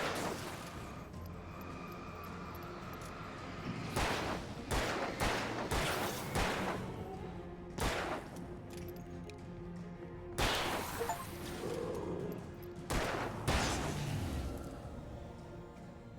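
Rifle gunfire in a video game, with repeated sharp cracking shots in irregular bursts and scattered single reports over a steady background hum.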